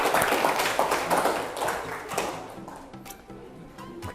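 A class of pupils breaks into continuous applause, dense overlapping handclaps that stay steady for several seconds before thinning out slightly.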